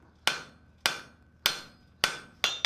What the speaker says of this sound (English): If anybody wants to really test your hammer skills, trying to draw down a tenon at the anvil is a real treat